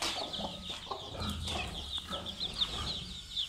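Chicks and hens in a coop cluck and cheep, with repeated high peeps over lower, irregular clucks at close range.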